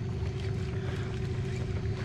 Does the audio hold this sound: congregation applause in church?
no